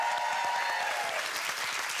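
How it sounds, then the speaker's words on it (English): Applause from a television talk-show studio audience, a steady, even patter of many hands clapping at moderate volume, without speech over it. "I'm clapping myself."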